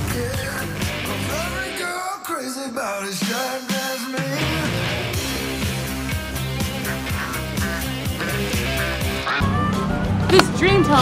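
A chorus of ducks and geese honking loudly and continuously, overlapping calls filling the whole stretch from close range, with voices mixed in.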